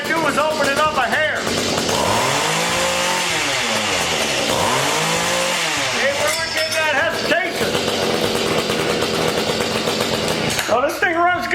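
A small mini tiller engine runs loud and close, its pitch rising and falling with throttle blips and then settling into a buzzing idle, with a voice talking over it.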